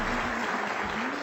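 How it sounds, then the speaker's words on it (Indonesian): Studio audience of the Indonesian talk show Mata Najwa applauds a guest, a continuous, even roar of many hands clapping, moderately loud and filling the room, with no distinct speech. "tepuk tangan sekali lagi dong"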